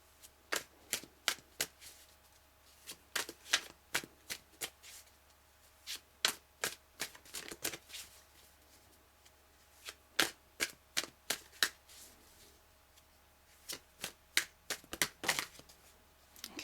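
Tarot cards shuffled by hand in a quiet room, producing repeated sharp riffling bursts in uneven clusters, close and fairly soft with short pauses between runs.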